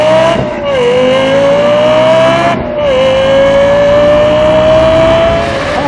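A Lexus LFA engine holds a loud, high, screaming rev close up, with two brief dips as it shifts before climbing again, sustained and dominant without talk.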